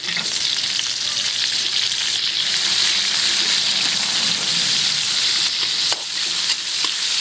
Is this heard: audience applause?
no